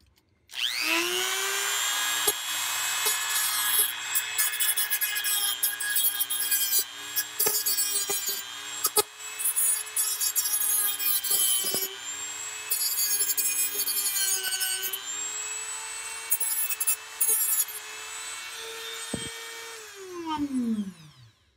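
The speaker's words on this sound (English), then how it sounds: "The Dremel is more melting off the plastic than what it is cutting it off." A Dremel rotary tool trims plastic inside a Blaupunkt Monterey SQR 23 radio, a loud, close high-pitched whine held for about twenty seconds. The pitch wavers as the bit bites and melts the plastic, then winds down at the end.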